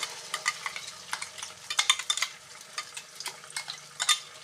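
Masala paste frying in a pan for a jackfruit pulao, a steady soft sizzle broken by frequent scraping stirs and light utensil clinks, close by, with no talking.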